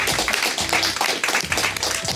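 An audience at an agricultural high school event claps in a brief burst of quick, uneven hand claps, fairly close and continuous throughout.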